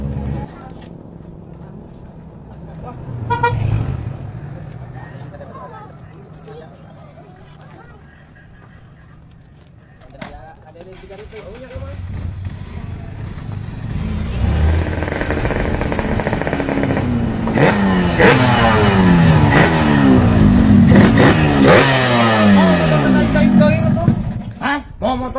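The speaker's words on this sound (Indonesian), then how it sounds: "Ya, aku mau motor tarik-tarik teuing." A motorcycle engine revs and drones on a public road, first a muffled idle, then a rising, louder throttle with buzzing harmonics that sweep up and down, with people talking over it.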